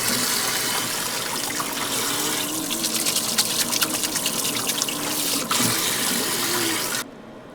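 Vegetables for tempura get a light rinse under a steady stream of running tap water, a continuous close splashing and gurgling into a sink that cuts off abruptly near the end.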